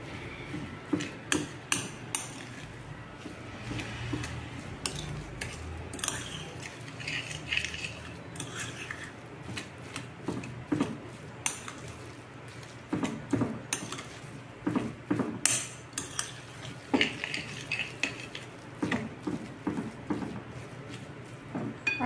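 Vegan cake batter made without eggs, wheat or milk being mixed by hand, an utensil tapping and clacking against the bowl in irregular bursts of knocks and scrapes, fairly close, with no talk over it.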